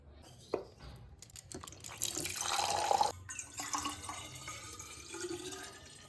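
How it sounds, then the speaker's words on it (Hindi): Water poured from a clay pot into a bottle at home, a splashing, trickling stream that swells in the middle and then tapers to lighter dribbles, close and fairly quiet with no talking. "आजकल हम पीते हैं घड़े का पानी, तो मैं अपनी बॉटल भर लेती हूँ।"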